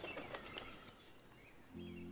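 A bird in the game Life is Strange gives a few faint chirps and twitters against quiet background ambience, followed by a soft low tonal hum.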